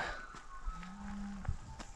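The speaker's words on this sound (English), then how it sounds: "Cows and paddocks." A single low moo from a cow in a paddock on a cold morning, heard from a short distance over faint outdoor background noise.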